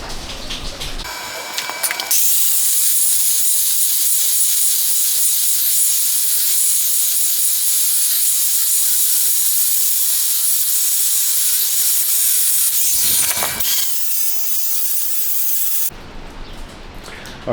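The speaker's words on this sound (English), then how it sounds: "But I'm gonna go ahead and use the sawzall, just so it could be cleaner" A Sawzall reciprocating saw cuts through a steel axle on a GMT-400 Yukon being swapped to a 14 bolt, a loud steady hissing rasp running about fourteen seconds without a break, with short bursts of noise before and after.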